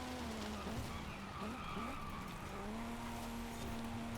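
A Nissan race car in Forza Horizon braking hard into a corner, with a sustained engine drone and loud tire squeal sweeping and wavering as it slows.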